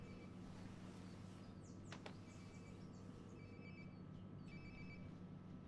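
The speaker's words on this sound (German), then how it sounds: "Sounds like my phone is definitely nearby." A phone ringing in the video game Life is Strange, its repeating electronic ring tones faint and small over a steady low ambient hum, with no talking.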